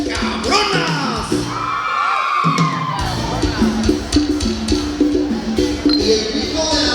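Women at a wedding shouting, whooping and cheering together in a loud, sustained crowd burst, with music playing underneath throughout.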